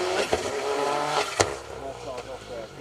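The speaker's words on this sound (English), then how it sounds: "the first of our cars off the stage here" A rally car revs hard as it pulls away off a stage, with tyre noise and a sharp crack, while a voice talks over the roar nearby.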